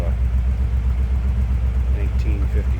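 A 1957 Ford Thunderbird with its vintage 312 V8 idles in a steady, low rumble, close by and continuous, with faint talk over it.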